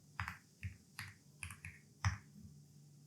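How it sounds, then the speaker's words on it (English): Typing on a MacBook keyboard to enter a web address, with a handful of soft, close key clicks in an uneven burst over a faint steady hum, with no voices. "now you have to type on the address bar"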